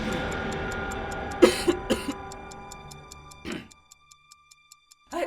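A single person coughs sharply a few times in an Indonesian cold and flu medicine commercial, close and dry, followed by a steady clock ticking alone in a quiet room.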